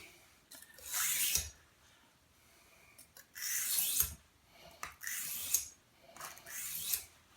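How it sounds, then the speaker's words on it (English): A kitchen knife is drawn across the fine side of a sharpening stone in four separate rasping strokes, each a close, gritty scrape with short pauses between. "sharpened it enough on the coarse side, you now flip it over to the fine side"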